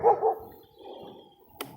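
A dog barks twice in quick succession up close, a short yip-like sound follows, and a faint sharp click lands near the end in an otherwise quiet room.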